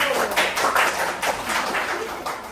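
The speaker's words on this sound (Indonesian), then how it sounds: "Kita beri tepuk tangan untuk kelompok 1" A class of students applauds group 1, a close, fairly loud burst of dense clapping from many hands that continues steadily and fades slightly at the end.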